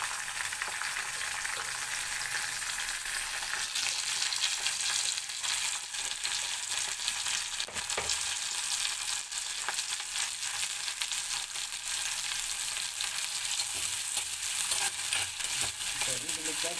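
Curry leaves and onion sizzle steadily in hot oil for a homestyle sardine fish curry, a constant close crackling fry with occasional stirring and no talk.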